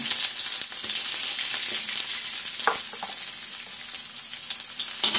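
Chopped garlic and ginger fry in a hot pan with squid about to go in, giving a steady close sizzle with light stirring scrapes and a few brief clicks, no voices.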